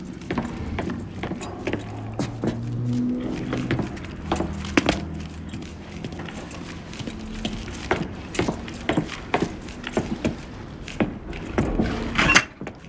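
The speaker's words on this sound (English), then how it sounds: "Keys in the other room. Grab them so we can get the hell out of here." Keys jangle and clink repeatedly as they are grabbed in the video game Mafia 3, with a string of sharp metallic rattles and knocks over a low background rumble throughout.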